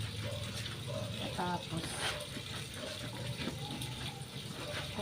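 A washing machine fills with water during a wash of a bed cover, a steady watery rush running throughout while someone talks over it.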